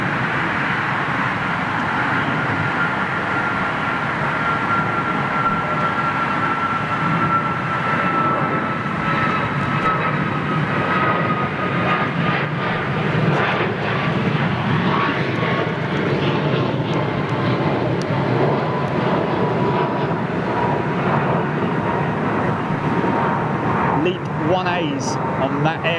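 A Boeing 737 MAX jet at London Heathrow Airport roars steadily as it passes, a loud, continuous engine rumble with a slowly shifting pitch, while someone talks over it at times.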